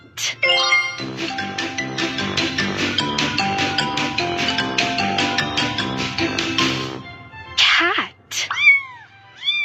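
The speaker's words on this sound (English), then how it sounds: "C-A-T. Cat." A cartoon cat's meowing comes in short, wavering cries near the end, following a bright, busy backing melody that fills most of the stretch.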